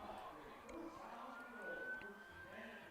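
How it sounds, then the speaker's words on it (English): An emergency siren wails faintly in the distance near a high school football game, its rising and falling tone carrying under a quiet background murmur. "we got our first siren of the night here"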